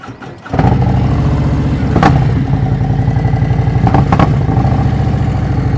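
A motorcycle engine starts with a short cranking burst, then settles into a loud, steady, close idle with throttle blips at around two and four seconds.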